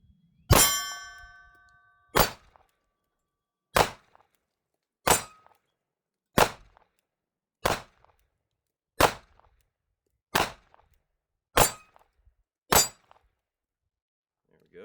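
A Smith & Wesson Bodyguard 2.0 pistol fires about ten sharp shots at steel targets, each crack followed by a brief metallic ring, spaced at a steady rhythm of roughly one per second.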